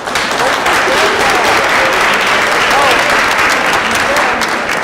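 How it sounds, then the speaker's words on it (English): A forum audience claps loudly for a judge at a youth and justice event, with continuous, dense applause filling the room from start to finish and a faint voice underneath. "let's give him a round of applause"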